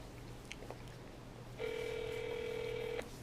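A phone call placed on speakerphone: a few faint keypad taps, then a steady ringback tone that holds for about a second and a half before cutting off, over a low background hum.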